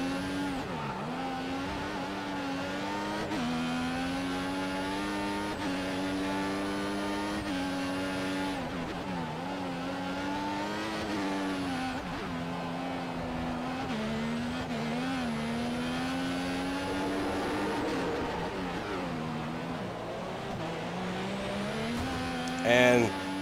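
An F1 car in the F1 2014 video game, at the Singapore circuit, drifts over the curb at turn 7. A high engine whine holds steadily throughout with shifting pitch, and ends on a brief louder bump.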